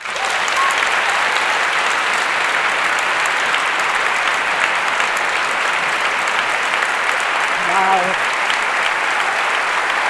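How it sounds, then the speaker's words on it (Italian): A large audience gives a long, thunderous round of applause welcoming Elly Schlein, secretary of the Partito Democratico, onstage at a live talk event; the dense clapping stays steady and loud, with a brief whistle-like tone near the end. "Quindi vi chiedo un grande applauso per Ellie Schlein."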